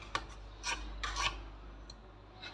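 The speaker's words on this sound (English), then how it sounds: "Scrape it all down." A spatula scrapes banana bread batter down the sides of a mixing bowl in a home kitchen in Kenya, giving a few short rasping strokes, close and fairly soft, with no talking.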